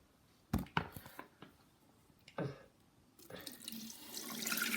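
A bathroom tap in a house gives a few sharp clicks and knocks, then water starts running and swells into a steady, growing gush that lasts to the end.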